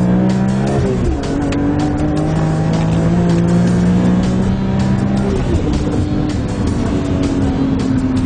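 A supercharged BMW M3 E46 accelerates hard on an open highway, its engine note rising steadily and loudly with a gear change and continuing strong, tire and road noise throughout.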